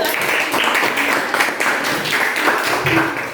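Applause for a student group in a classroom: a steady wash of hand clapping from the class that carries through the whole span, with a faint voice underneath.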